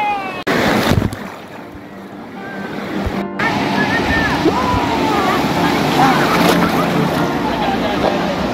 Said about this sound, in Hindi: चलो लहर लेके आते हैं चिकू के लिए